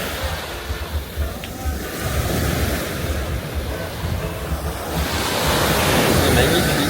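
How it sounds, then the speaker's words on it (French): Surf breaks on the beach in front of a Saint-Tropez hotel restaurant, giving a continuous roar of waves with rising and falling swells and wind buffeting the microphone. "Et là, on a la plage devant nous."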